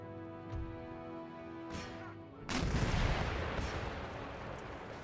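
Artillery in Empire: Total War fires a few distant booms over a low droning bed, then a much heavier volley of cannon fire rolls in and keeps thundering loudly.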